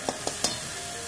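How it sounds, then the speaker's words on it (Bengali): Prawns fry in a pan while cooking a palum shak dish, giving a steady close sizzle with three quick stirring clicks near the start and no voices. "দেখুন কত সুন্দর আমাদের চিংড়ি মাছগুলো ভেজে রেডি হয়ে যাচ্ছে"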